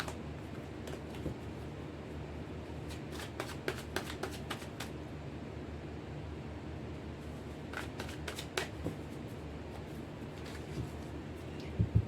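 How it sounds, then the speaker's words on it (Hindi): Tarot cards being shuffled and drawn close by and softly: bursts of quick riffling flutters come in clusters with pauses between, then a couple of light taps near the end, with no talking. "देखते हैं कि कैसे कार्ड निकल कर आते हैं आपके लिए"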